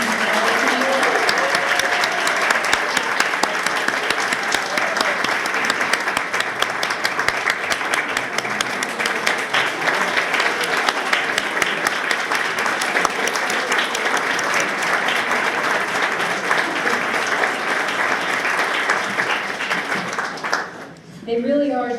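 Long, sustained applause from an audience at an awards ceremony for young professionals, a loud, continuous wash of clapping lasting around twenty seconds before briefly dipping and picking up again at the very end.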